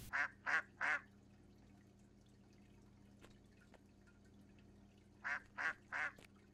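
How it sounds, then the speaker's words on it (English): A pet duck in the video game Chuck E. Cheese Simulator gives two bursts of three quick quacks, one at the start and another after a long quiet gap, over faint background noise. "Oh, look, I have a pet duck."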